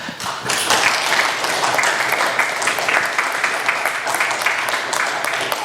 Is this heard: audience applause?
yes